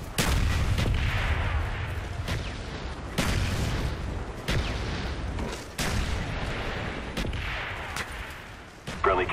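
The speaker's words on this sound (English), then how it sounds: "Friendly mortars inbound." A friendly mortar strike in a Call of Duty-style multiplayer match on the Summit map, with a rapid series of sharp, booming impacts about one per second, loud and close, continuing through the whole stretch.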